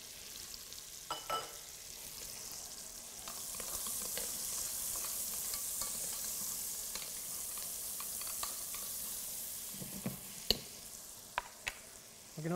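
Onions fry in rendered fat in a pot, a soft, steady sizzle broken by occasional stirring scrapes and clinks of a utensil. It is fairly quiet and close, with sharper knocks near the end.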